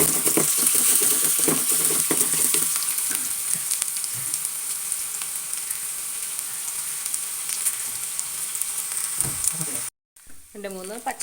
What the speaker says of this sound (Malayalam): നമുക്ക് മീനൊന്ന് വറുത്തിടാം.